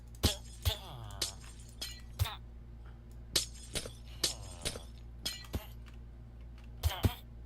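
Glass shatters in a video game in a series of sharp, bright breaking and clinking bursts scattered over several seconds, separate hits standing out over a low steady hum.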